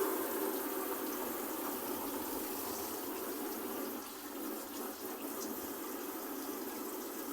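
Hot water runs steadily from the tap of a Hymer B544SL motorhome, a continuous close hiss of flowing water with no talk.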